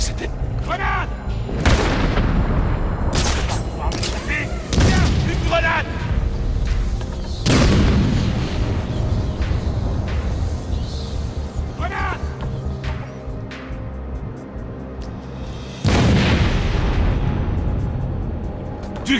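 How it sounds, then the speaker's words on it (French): Several heavy booming blasts from a grenade explosion in Batman: Arkham City, loud and close, with sharp onsets and rumbling tails spaced across the scene amid other game noise and voices. "Grenade!"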